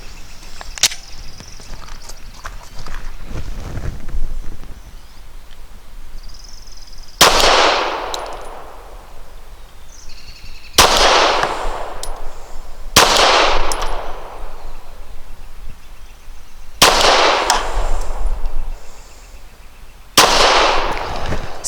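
A custom Glock 34 firing subsonic 158 grain PPU ammo sounds five loud, sharp shots spaced a few seconds apart, each with a ringing outdoor decay, after a quieter stretch of faint handling clicks.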